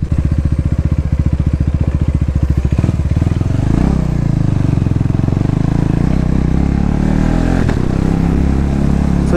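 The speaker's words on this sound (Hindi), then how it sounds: "यहाँ पे तो मेरे को स्लो ही रखना पड़ेगा बाइक, बिकॉज तुम्हें पता ही है ये काफी लाउड है" A loud modified KTM Duke 390 BS6 motorcycle engine running close by while riding slowly, first a rapid, throbbing idle-like thump that shifts into a denser, rougher drone with small swells of throttle.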